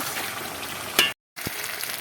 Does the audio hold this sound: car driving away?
no